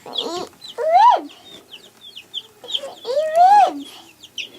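Small chickens cluck and chirp in a warm brooder under a red heat lamp, with two longer rising-and-falling calls standing out among short peeps, close and fairly loud.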